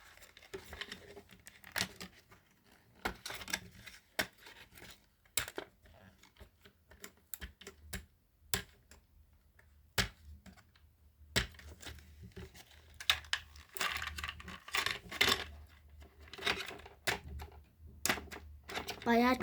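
Packing tape is peeled and torn off a toy package in uneven crackly bursts, with rustling and crinkling between pulls, close and fairly loud, and a voice faint underneath.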